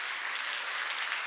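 A church congregation bursts into steady, dense clapping during a Sunday sermon, a continuous wash of applause close and loud with no voices standing out.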